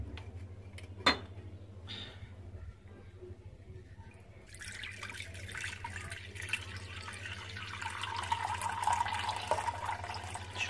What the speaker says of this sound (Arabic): احط المية